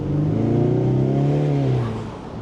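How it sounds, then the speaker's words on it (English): A Ford Mustang EcoBoost car engine revs up and holds a steady, throaty roar from nearby, then eases off toward the end. "let me show you how this engine sounds"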